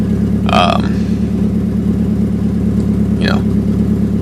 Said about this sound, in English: car is cold, and it is idling right now at 1100